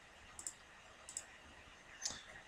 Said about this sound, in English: we're going to click OK.